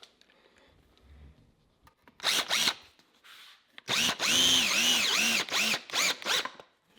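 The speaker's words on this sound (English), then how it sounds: "You're going to send another screw." Power drill driving a screw into 2x4 lumber for a simple bench, in several loud, close bursts of whirring with brief pauses between, after a short quieter stretch at the start.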